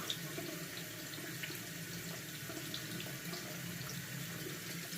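Cold water runs steadily from a tap onto a block, a continuous soft hiss and splash heard fairly quietly without voices.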